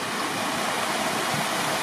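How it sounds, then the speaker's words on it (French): Mountain torrent stream at Penha Garcia flowing steadily, a dense, continuous rushing of water close by with no pauses and no voices. "Le torrent initial."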